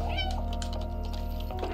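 A single drawn-out cat meow in the video game Stray rises over a steady hum of background game music, close and fairly loud.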